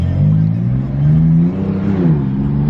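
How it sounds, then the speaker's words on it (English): A 2017 BMW F80 M3 engine downshifts during a drive, a loud, close, low exhaust drone that blips and climbs in pitch with each gear change, heard from inside the car with no talk. "Let's hear the downshifts."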